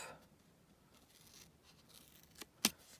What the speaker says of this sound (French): vous prenez votre paire de ciseaux et vous allez couper donc les traits droits